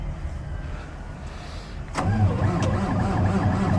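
A truck engine turns over and catches in cold weather after a quiet stretch, then runs with a steady, loud, low rumble close by.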